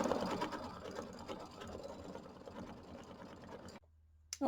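A home embroidery machine stitches a programmable fill design, its rapid needle chatter running steadily and softly for several seconds before cutting out into near silence, followed by a brief clunk.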